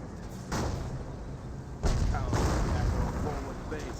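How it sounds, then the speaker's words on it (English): A creeping artillery barrage in Company of Heroes 1 lands as several heavy booms: one at the start, then two close together, each followed by a rumbling tail over ongoing battle noise. "Creeping barrage going to the base as well."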